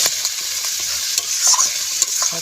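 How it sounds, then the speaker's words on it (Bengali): Fish fries with spices in a pan over a wood-fired stove in a village kitchen, giving a loud, continuous hiss of sizzling oil. Short scraping and tapping stir sounds come through, and no one speaks. "ভালো করে ভেজে নেবো মাছটা"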